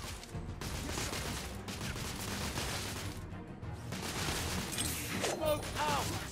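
Gunfire rattles in the Victorian-era shooter game The Order: 1886, with dense, sustained bursts and scattered shots over a noisy battle backdrop, broken by short lulls.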